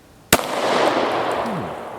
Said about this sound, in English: let's shoot it from 3 yards here